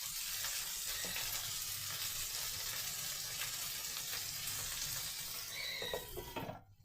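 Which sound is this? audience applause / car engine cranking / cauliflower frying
cauliflower frying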